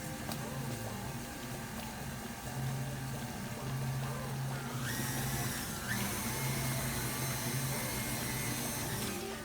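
An electric hand mixer beats chocolate chip cookie dough after two eggs are added, a steady close motor whir running throughout with a slight change in pitch partway, with no talk.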